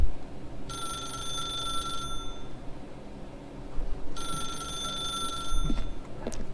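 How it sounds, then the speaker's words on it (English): A telephone rings in The Stanley Parable, with two bright electronic ring bursts about a second and a half long, separated by a quiet pause over a faint room hum. "I'm not picking up that phone."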